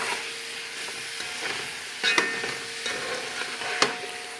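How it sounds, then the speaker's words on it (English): Food sautés in a big pot with a steady broad sizzle, while a utensil scrapes and clacks against the pot in a few louder stirring strokes; no one talks. "And we just sauteing"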